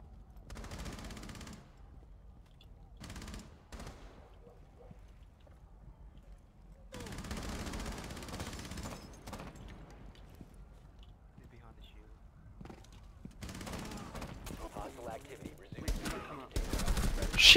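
Gunfire in Rainbow Six Siege on tap-fire mode, several short bursts of shots in irregular clusters separated by quiet gaps, fairly close, with a player's voice speaking between them.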